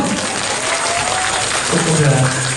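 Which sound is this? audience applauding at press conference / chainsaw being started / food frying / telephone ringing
audience applauding at press conference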